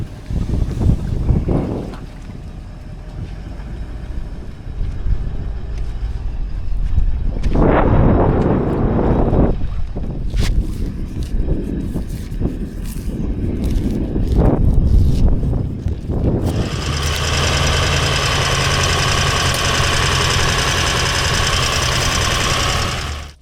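A 2-stroke outboard on a small tinny boat idles and revs, with a steady low engine drone, rougher bursts, and gusts of wind buffeting the microphone, then a smoother, brighter engine tone near the end.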